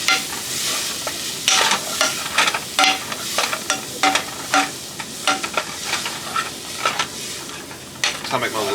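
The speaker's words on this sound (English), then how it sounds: "And then you're gonna throw back in all your rest of your items. So you can mix it around." Stew ingredients sizzle and fry in a pan while a utensil stirs them, giving repeated scraping and clinking bursts over a steady close sizzle, with no talking.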